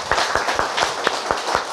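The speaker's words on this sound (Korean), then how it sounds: "하나님께 영광의 박수 드립니다" A church congregation claps in praise to God, giving a series of separate, evenly spaced hand claps at a moderate pace. The claps are moderately loud against a quiet room background, with no talking.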